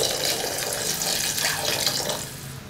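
Water pours steadily into a cooking pot of vegetables for sambar, a loud continuous splashing stream that tapers off slightly at the end.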